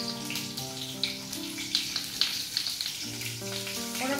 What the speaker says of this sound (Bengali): পেঁয়াজ, ক্যাপসিকাম আর কাঁচা লঙ্কাটা দিই।